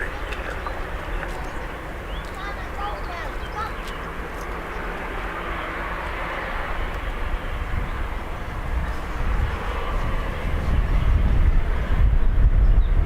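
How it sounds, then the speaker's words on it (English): Business jets taxi at Dublin Airport, a steady broad engine rumble and whine holding throughout and swelling louder toward the end, with voices talking over it. "Two more BizJets on taxi now."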